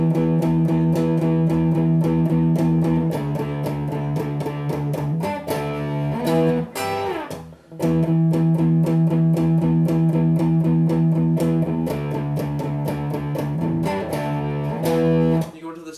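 Distorted electric guitar chugs through the riff, a steady driving rhythm of palm-muted notes and short chord stabs, loud and close, with one brief break midway.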